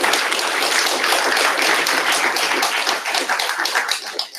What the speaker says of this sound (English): let's give our round of judges a quick applause